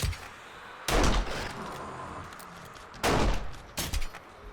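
Pistol gunfire in the video game 7 Days to Die during a horde night: three sharp, loud shots fired at uneven intervals, each trailing into a short reverberant tail over a low background.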